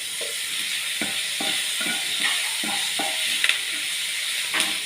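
Onion, green chili, ginger, garlic, curry leaves and tomato sizzle steadily in hot oil, a loud close hiss with repeated soft stirring scrapes throughout.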